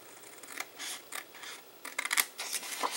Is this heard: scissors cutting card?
yes